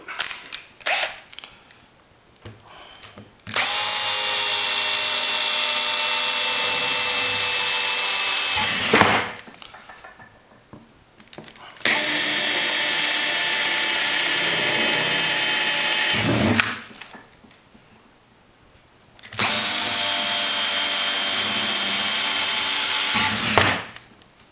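A power drill with a 3/8 inch bit runs in three long, steady bursts separated by brief pauses with clanks and handling noise, loud and close.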